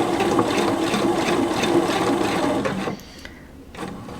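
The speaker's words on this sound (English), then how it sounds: "I'm going to start sewing" A sewing machine stitches a bound buttonhole in a rapid, steady run of needle clatter that stops abruptly near the end, leaving quiet room sound with no talking.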